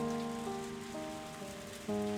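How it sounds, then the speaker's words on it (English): Steady heavy rain pours in a visual novel game scene, a continuous close hiss under sustained soft musical tones, with no talking. "It was a heavy rain. It came pouring down suddenly"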